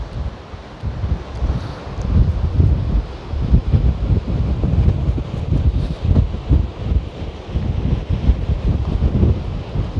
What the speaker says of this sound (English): It's hard to see the water. It's not quite close enough, right? But perhaps you can hear it.